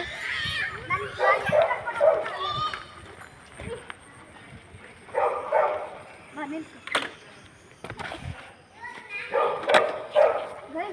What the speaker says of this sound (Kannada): ಈ ನಾಯಿ ನಮ್ಮ ಫ್ರೆಂಡ್ಲಿ ನಾಯಿ ಅದು